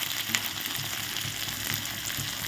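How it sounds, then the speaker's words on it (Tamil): Small shallots sizzle in hot oil with mustard seeds, urad dal and green chillies, a steady dense frying hiss with faint crackles and light stirring, close and continuous, no voices. "அடுத்தது சின்ன வெங்காயம்"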